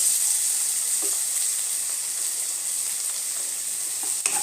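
Tomato and onion frying in a pan for tadka dal, giving a steady bright sizzle with a few soft stirring scrapes, close and continuous without talk.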